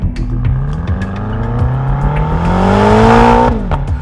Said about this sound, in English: let's take a closer look at the drag race. Off the line, the Panamera GTS's superior all-wheel drive traction gives it an advantage